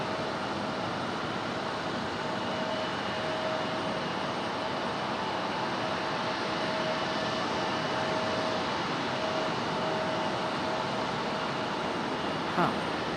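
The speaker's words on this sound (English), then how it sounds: "There goes one of our Deltas back to Atlanta, that 737-900 there" Delta Boeing 737-900 airliner departing Raleigh-Durham airport: a faint, steady broadband jet roar with a thin whine runs throughout, distant, with a brief click near the end.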